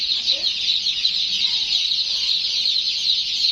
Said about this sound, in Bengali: অনেক সুন্দর মুরগি, কালো অনেক সুন্দর সুন্দর মুরগি আছে